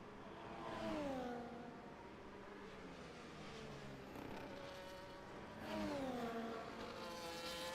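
Race car in a sim racing event driving past in the background, engine tones rising and falling as it passes twice, faint and distant.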